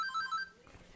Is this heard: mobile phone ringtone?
yes